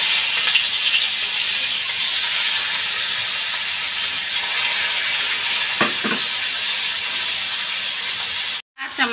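Food frying in a pan on a home stove, giving a steady broadband sizzle that stays level and fairly close throughout, with a brief stir of the pan near the middle and a short cutout near the end.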